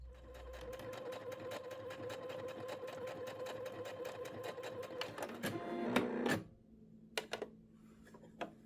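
A Singer SE9185 sewing machine stitches fabric in a steady rapid run of needle clicks, close and continuous, then stops with a few handling clicks and taps afterward.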